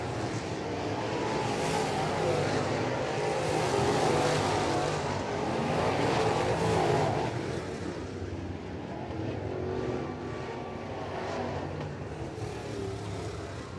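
Crate late-model race cars roar around a dirt oval during a heat race, a dense continuous engine drone that stays loud throughout, with cars heading into a turn and no talk over it.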